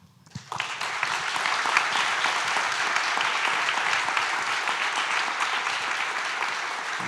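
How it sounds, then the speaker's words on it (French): Applause for the speakers at a French-language talk on creating social bonds in the digital age swells quickly from a few first claps into a dense, sustained wave from a large audience, loud and steady to the end. "j'aimerais qu'on vous applaudisse."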